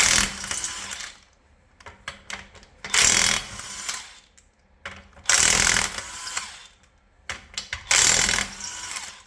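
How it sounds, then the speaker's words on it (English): A power tool with a 21 millimeter socket removes the lug nuts from a car wheel during a tire change, giving loud mechanical whirring bursts of about a second each, four main runs with short ratcheting clicks between them, close up. "We're going to go ahead and remove the lug nuts."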